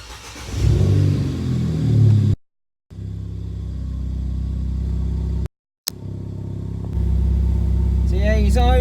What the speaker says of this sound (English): I'm going to start it up now